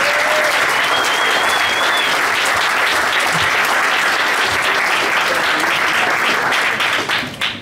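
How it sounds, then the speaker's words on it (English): Loud, dense applause from a room of guests at a sports awards night, a sustained roar of clapping that holds strong for several seconds before fading out at the end. "I think we could all give a round of applause for Ty"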